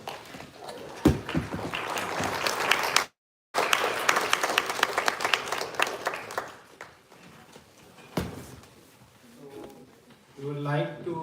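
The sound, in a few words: audience applause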